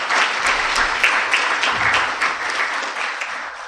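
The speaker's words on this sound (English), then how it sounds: "Can we join hands to clap for the panelists?" Audience at an East African tax breakfast event clapping for a panel of speakers, a dense, steady burst of applause from many hands filling the room for the whole stretch.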